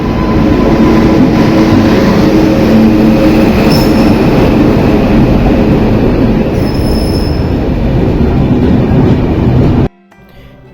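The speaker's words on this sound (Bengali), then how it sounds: "যে আমাদের ট্রেন চলে এসছে।" A passenger train pulls into a junction station in the morning, its steady loud rumble mixed with high squealing wheels that runs on for several seconds before cutting off abruptly.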